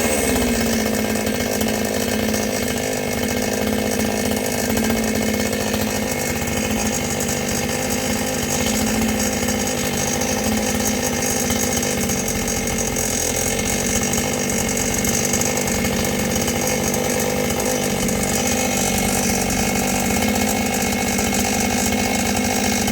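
A petrol chainsaw idles steadily at low revs after its carburetor fuel mixture is adjusted, a loud, continuous buzzing engine drone that stays even and close for the whole stretch with no talk over it.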